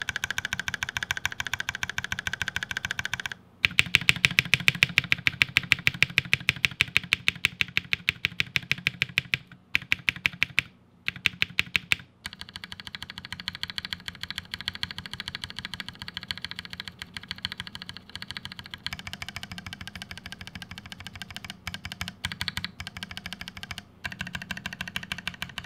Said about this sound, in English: try to press the switches down like you normally would and go side to side and press down on the edges of the keycap